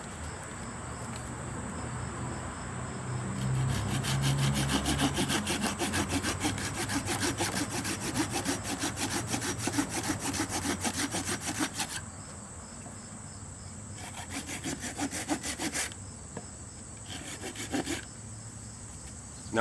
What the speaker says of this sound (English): Your third cut is going to chop this off your inch down to inch and a half down into the log.